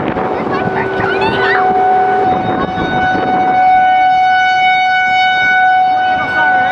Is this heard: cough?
no